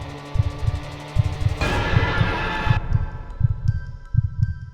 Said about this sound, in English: her heart beating fast